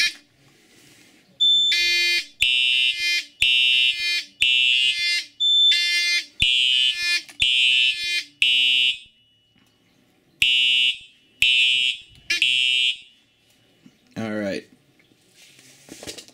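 A Simplex 4005 fire alarm system set off in evacuation mode: loud, harsh electronic buzzing horn blasts in a rhythmic pattern of short bursts with brief gaps, close and dominant, pausing once near the end as a voice briefly speaks.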